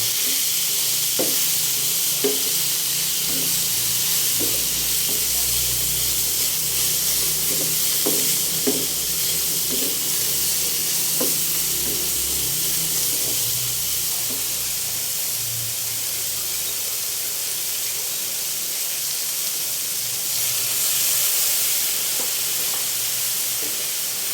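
Fresh backyard eggplant sautéing in a hot pan gives a steady, close sizzle and hiss throughout, with scattered light scraping and stirring clicks and no talk.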